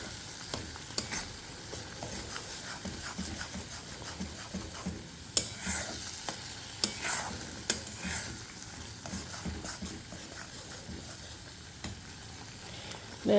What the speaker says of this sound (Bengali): মশলাটা দিয়ে দিয়েছি, এরকম ভালো করে কষিয়ে নিচ্ছি।